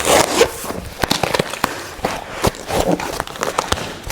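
Plastic wrapping and cardboard on a delivered kitchen-goods package crackle and scrape as it is torn open, with a quick run of rustles and snaps that sound close and fairly loud.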